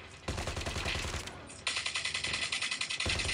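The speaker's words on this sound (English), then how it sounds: "Trying to shoot into the freaking walls." Rapid automatic gunfire in the mobile shooter Call of Duty Mobile, played on an iPhone 8: two loud sustained bursts of rattling shots, the second with a sharper, steady rhythm, after a brief break.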